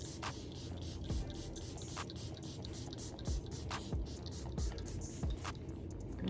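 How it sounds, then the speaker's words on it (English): Several short hissing bursts of makeup setting spray, spaced a second or so apart, fairly soft over a quiet background hum. "And then we're gonna spray again. Spray again."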